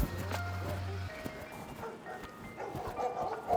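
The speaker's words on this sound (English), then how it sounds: "here comes the big dog" A big dog barks a few times at an abandoned house, sharp woofs at moderate distance with light background noise.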